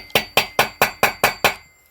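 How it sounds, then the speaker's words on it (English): A hammer lightly taps the end of a magnetic drain plug on a boat's lower unit, seven sharp metallic strikes in an even quick rhythm, close and clear with no talk. "I'm going to take a hammer and just lightly tap on the end of this"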